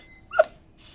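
A single short, high dog whimper, faint and brief in an otherwise quiet setting.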